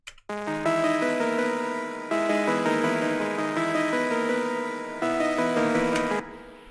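A bright hyperpop synth melody built in Serum plays alone, with sustained, harmonically rich chords changing in steady steps at moderate volume before cutting off at the end.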